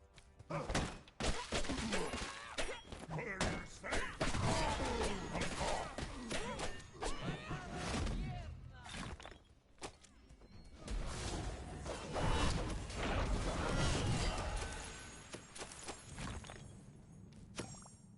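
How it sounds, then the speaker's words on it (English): In the video game Tribes of Midgard, a string of heavy thumps, crashes and whooshing blasts rolls on over the whole stretch, dense and busy with brief lulls between volleys. "What explosions they do."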